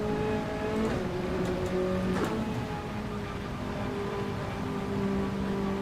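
A Ferrari race car engine from the racing game Gran Turismo 7 drones steadily at high revs, with a few quick shifts and a brief squeal, loud and continuous throughout.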